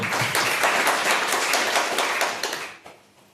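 A crowd claps steadily for a few seconds at a Jivandan Foundation kanyadan yojana event, then the applause thins out and fades near the end.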